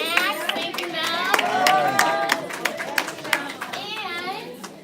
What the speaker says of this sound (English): Can we get a wave and a clap for all the snacks?